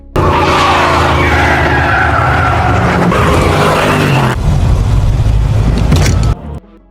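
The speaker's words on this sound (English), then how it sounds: "Not wanting to waste time with sadness, Brian immediately took to the field to test his car." A car on a field test drive skids with loud tyre squeal over a roaring engine. The screech runs continuously for about six seconds, shifts pitch midway, then cuts off abruptly.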